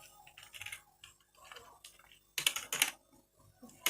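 Keys clatter on a computer keyboard as C code is typed, bursts of clicks starting soft and sparse, then growing louder and denser in quick flurries near the end, with no voices.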